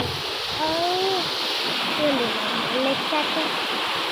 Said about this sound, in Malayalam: വെള്ളച്ചാട്ടം കാണാൻ പോകാം നമുക്ക്